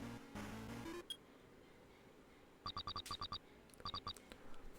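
A cell phone rings in the Ace Attorney Investigations 2 game, a short tone at first, then repeated bursts of quick electronic trilling beeps in clusters, clear over a quiet game background.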